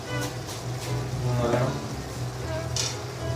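Garam masala and majboos powder being stirred into chicken frying in a pan for an Arabic chicken majboos, with a steady close sizzle and soft stirring scrapes throughout.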